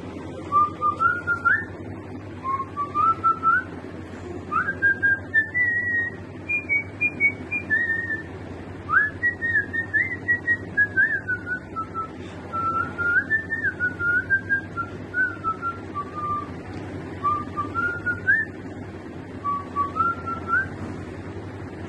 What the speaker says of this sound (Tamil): விசில் அடிக்கிறேன் அது என்ன வரி ஞாபகம் வரல